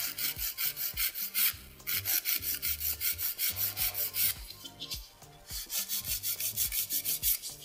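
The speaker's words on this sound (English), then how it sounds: "normal filing routine is sidewalls first, then the cuticle area, free edge, and then contour the top surface." Acrylic powder nails are filed in quick, steady rhythmic strokes, a dry, close rasping scrape that pauses briefly twice, with no speech.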